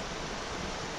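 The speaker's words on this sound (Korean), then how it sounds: "눈 녹은 물이 졸졸졸졸 흐르고 있습니다." Snowmelt water trickling in a mountain stream near McNeil Point, a steady broadband rush heard up close with no talking.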